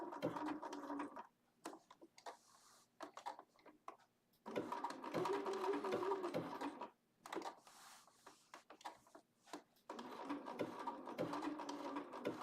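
Bernina sewing machine fitted with a size 100 needle stitching in three bursts of steady, rapid mechanical whirring, separated by short pauses, close and alone.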